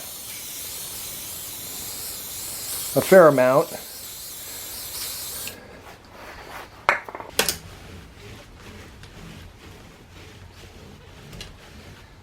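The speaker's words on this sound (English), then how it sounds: "Then I just get some regular oil and spray that on the rag here." A broad hiss of an aerosol oil spray onto a rag for cleaning a bicycle chain runs for several seconds, then cuts off; a brief voice speaks mid-spray and clinks follow.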